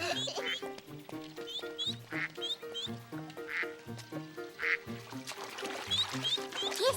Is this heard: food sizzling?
no